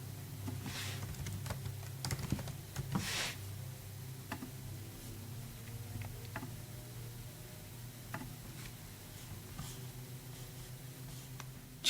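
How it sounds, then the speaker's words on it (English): Light, quiet clicks of typing on a computer keyboard come in irregular bursts close by, with short pauses between the strokes. "But I like typing it in"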